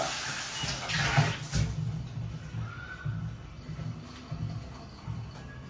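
Bowls being washed by hand with water at home: steady splashing and running-water wash with brief louder sloshes, fairly close, with no clear talk over it.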